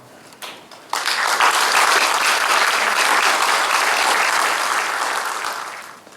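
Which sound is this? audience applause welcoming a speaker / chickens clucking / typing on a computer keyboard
audience applause welcoming a speaker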